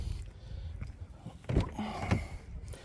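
Electric seat motor adjusting inside a Hyundai Santa Fe 2.2 CRDi Premium SE, quiet intermittent whirring with a couple of sharper bursts and light clicks near the end.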